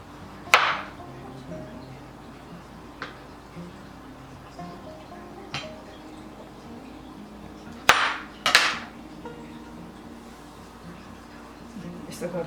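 A kitchen knife cuts through avocado for guacamole, producing a handful of sharp, close knocks and taps spaced irregularly, with a voice speaking quietly in between.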